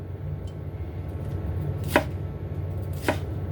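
A knife slices through Chinese cabbage on a board in two distinct chopping strokes, about a second apart, over a steady low background hum with no talking.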